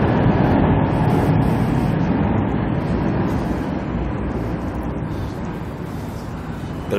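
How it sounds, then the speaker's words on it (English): Aircraft passing near an airport, a loud broad roar that swells early and slowly fades over several seconds, heard from outdoors with no talk. "We're very close to the airport, as you can hear."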